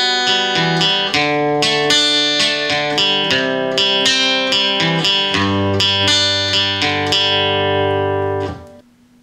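Acoustic guitar plays a section of a song, picked notes ringing steadily in a regular rhythm with a fuller low chord near the end, close and clear with no voices.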